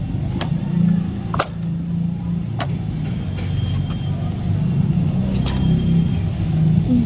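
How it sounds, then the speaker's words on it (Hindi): Toy army truck from India, a tank-style truck, rolling along while its motor whirs and rumbles steadily, with sharp clicks and knocks of the plastic parts, close and fairly loud. "ये ऐसे चलती है और आवाज करती है"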